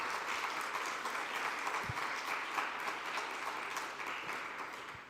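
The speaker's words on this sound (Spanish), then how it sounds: "Les pido un aplauso, por favor, para nuestro presentador." An audience at a keynote conference gives a presenter sustained applause, a dense, even patter of many hands filling the room, steady throughout and tapering slightly at the end, with no talking over it.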